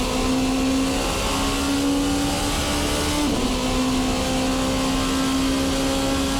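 VRC Revenga R13 race car engine in Assetto Corsa, loud and steady at high revs with a sustained harsh tone and a brief pitch shift as it changes gear midway, no talking.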